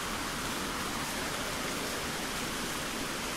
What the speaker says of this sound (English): It's raining really good.